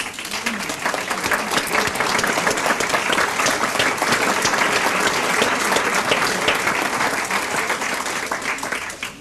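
Sustained, dense applause from a large audience fills a prize ceremony hall, loud and even throughout, fading slightly at the end.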